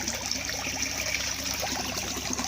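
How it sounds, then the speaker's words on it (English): Water trickling steadily into a garden koi pond being refilled after a repair, a continuous close, bubbling dribble and splash with no talk. "So there's a trickle in, trickle out,"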